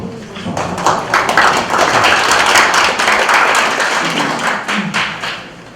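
Sustained audience applause at a defense and security debate forum welcoming the next presenter, dense and loud throughout with a few sharper claps standing out.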